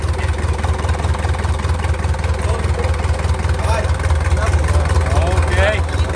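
An Isuzu diesel engine, sold for marine use, idles with a steady low chugging rumble, close and constant, with a person talking briefly over it.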